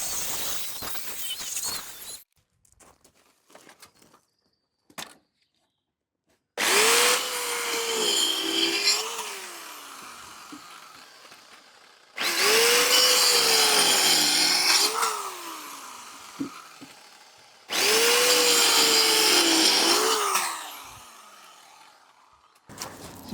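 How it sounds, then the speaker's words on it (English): Old, worn rotary saw cutting through wooden fence posts in three loud bursts, each motor whine rising and dipping as the blade bites, with quiet gaps and small clatters between cuts. "maybe you're lucky enough to have one of these old falling apart rotary saws. I'm going to use that and then cut around them."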